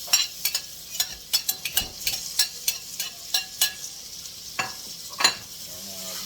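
Garlic, scallion and pepper frying in a pot of curry, with a soft background sizzle broken by sharp, irregular clinks and scrapes of a utensil stirring against the pot.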